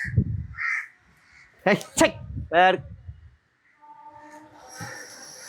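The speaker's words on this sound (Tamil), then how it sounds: "காக்கா கூட்டம் தொல்லை தாங்க முடியல" Several crows caw loudly nearby in short harsh bursts, a flock pestering outdoors, with faint background murmur between calls.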